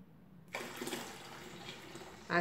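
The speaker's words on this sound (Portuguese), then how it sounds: "Vou colocar o restante da água." Water pours into a homemade liquid soap mixture, a sudden steady splashing rush that starts partway in and continues near and moderately loud, with no talk.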